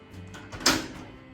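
A bedroom door lock clicks once, a short close metallic snap with a soft rustle before it in a quiet room.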